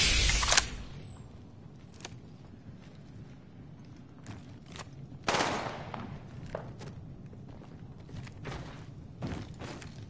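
Weapon fire in the video game Apex Legends, several sharp gunshot cracks and short bursts spread over ten seconds against a low in-game ambience, with one louder burst midway.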